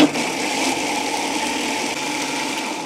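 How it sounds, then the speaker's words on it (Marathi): A mixer grinder running steadily as it blends coconut with water for sol kadhi, a loud continuous motor whir that starts abruptly and holds an even pitch throughout. "का हे मिक्सरला लावून घ्यायचं"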